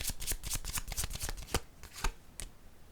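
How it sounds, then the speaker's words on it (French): A card deck handled to draw a card, with a quick run of crisp riffling clicks followed by a few separate snaps and flicks, close and soft. "Je vais piger une carte sur le paradis"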